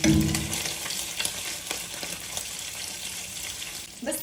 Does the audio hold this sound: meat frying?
yes